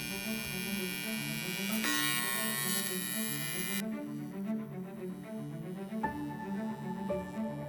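TIG welding of aluminum on a vintage bikini-style motorcycle fairing, a steady electric buzzing hum with a sharp hissing surge partway through, continuous and close, with no talk.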